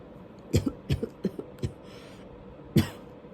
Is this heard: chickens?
no